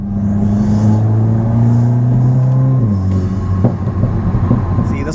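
A Volkswagen MK8 GTI with a Milltek race exhaust drones loudly and steadily up close, its deep exhaust note stepping down in pitch twice toward the end.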